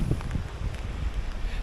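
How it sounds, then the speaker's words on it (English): Strong wind gusts during Hurricane Nicole buffet the microphone outdoors among banana plants, a loud continuous rumbling roar with irregular surges. "gusts are coming, I'm getting wet"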